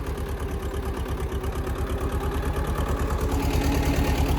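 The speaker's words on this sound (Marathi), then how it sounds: "पुढं रोटर चालू राहिलं" A tractor engine runs with a rotavator in very wet field soil, giving a steady, close, throbbing low rumble with a rhythmic chug that grows slightly louder toward the end, and no talk.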